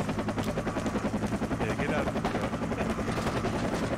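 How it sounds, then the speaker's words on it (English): An enemy helicopter in the tactical shooter Project Reality thumps with a fast, rhythmic rotor chop throughout, loud and close, while people talk over it. "Enemy chopper."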